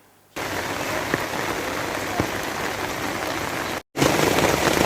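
Heavy continuous rain pours onto streets in Jharkhand, a dense even hiss of drops hitting wet ground, close and steady, with a brief cut in the middle.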